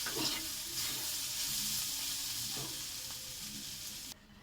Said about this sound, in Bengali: এটা ভাজা হবে, তো দেখো আর একটু ভাজা হবে, লাল লাল হবে।